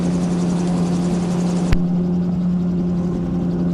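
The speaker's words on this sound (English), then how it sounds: "Something I always consider when crossing water in the gyrocopter" Gyrocopter engine droning steadily in flight over the Lake District, a loud continuous low hum with a strong tonal buzz and one brief sharp click partway through.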